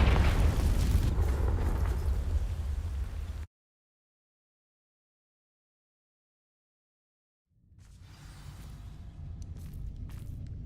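A Confringo fire spell in Hogwarts Legacy bursts against dry vines with a loud roaring blast, cuts to silence, then a crackling burn rises and holds steady.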